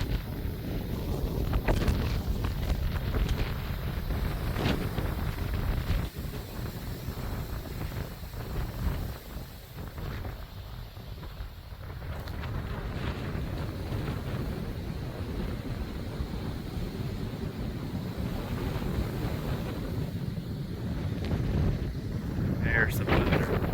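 Strong gusty wind during a thunderstorm roars across the microphone in heavy, rising and easing buffets, loud and close, with a brief lull midway before the blowing builds again.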